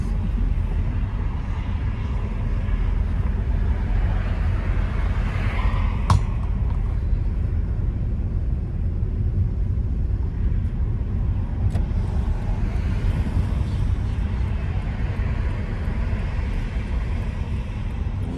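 A car accelerating gently during a driving lesson, a steady, muffled low engine and road hum heard from inside the cabin, with no talking.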